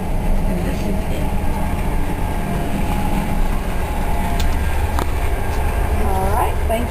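Inside a sleeper room on an overnight train to Berlin, a constant low rumble and rattle of the moving carriage fills the space, steady and close, with faint voices in the background.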